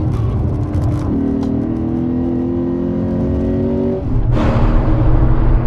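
A 2016 Lexus GS F sedan accelerates hard on a race track, its engine note loud and steady with rising harmonics, then a brief shift break before the revs surge again with a broader roar.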